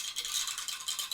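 Pink dice rattle steadily as they are shaken and handled at a tabletop roleplaying game, a close, continuous clatter with no voices over it.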